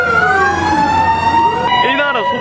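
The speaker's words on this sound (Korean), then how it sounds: "이 나라 소방차 기 째지겠어요" Fire engine siren wailing in the streets of Manila, Philippines, a loud close rising-and-falling tone that holds for the whole stretch with traffic rumble beneath and a second siren sweep joining near the end.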